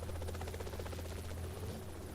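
A helicopter in a Formula racing video game at a Cannes street circuit, its steady rotor drone and buzzing hum filling the whole short stretch at an even, continuous level with no talk.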